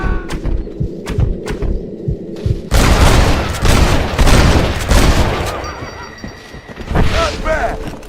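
Gunfire erupts in the video game Red Dead Redemption, with sparse single shots giving way to a dense, loud fusillade of booms and thuds, mixed with game effects and shouting voices.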